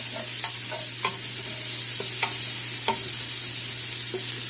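Onions and bacon sizzle steadily in a pan for Zuppa Toscana soup, a constant hissing fry with occasional scraping clicks from stirring, close and alone.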